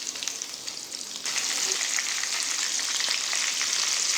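Chicken donuts frying in hot oil, a steady bright sizzle that swells louder midway and holds, close and with no talk.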